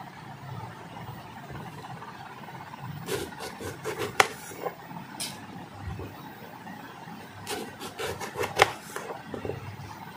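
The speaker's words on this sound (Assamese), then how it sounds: "এতিয়া মই বেঙেনাখিনি গোল গোলকৈ কাটি ল'ম।" Knife slicing eggplant into rounds for a yogurt baingan masala, giving crisp cutting crunches in two bursts of several quick strokes each, close and moderately loud, with no talk.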